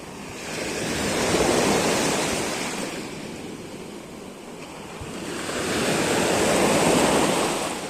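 Black Sea waves at Odesa wash in with two slow swelling rushes of surf, each rising and fading, mixed with wind buffeting the microphone and no voices.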